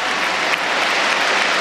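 Crowd applause in a handball arena as injured player Daria Bucur leaves the court, a dense, loud, continuous wash of clapping.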